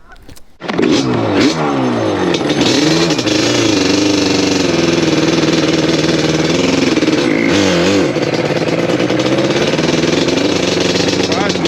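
A vehicle engine cranks and catches within the first second, then keeps running loud and close with a steady rough drone and a few small shifts in pitch.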